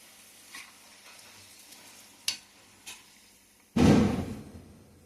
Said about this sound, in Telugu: ఇలా ఫ్రై చేసుకోవాలి. బ్రౌనిష్ రాగానే తీసేసుకోవాలి.